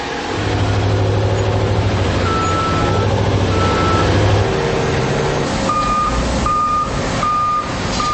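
Heavy trucks loaded with raw iron ore rumble loudly nearby at a mine as steady reversing beeps repeat at even intervals over the engine drone.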